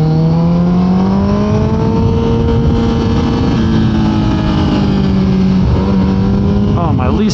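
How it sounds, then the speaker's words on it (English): A motorcycle engine in first gear, engine braking, drones at steady revs, its pitch dipping briefly and rising again, loud and close throughout. "Drop it down to first and use a little engine braking"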